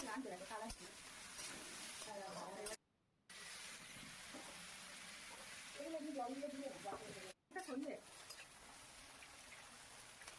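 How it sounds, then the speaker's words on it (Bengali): Vegetables for chicken chow mein fry in a pan with a steady crackling sizzle and some stirring, broken by two short silent gaps, while a voice talks intermittently over the cooking. "দেখো সবজিগুলো এখানে ভাজা হয়ে গেছে"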